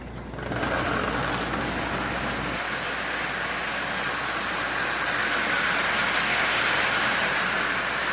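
A Marx 1666 toy steam engine with a plastic body runs along its track pulling a string of Marx cars, giving a steady rumbling whir at an even level throughout.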